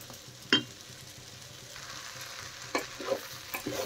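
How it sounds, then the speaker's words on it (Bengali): Rice with spices is stirred and fried in a pan for tomato pulao, with a faint steady sizzle under occasional sharp scrapes and knocks of the spoon against the pan, and no talking. "এখন আমি চাল নেড়ে চেড়ে ভালো করে কষিয়ে নেব।"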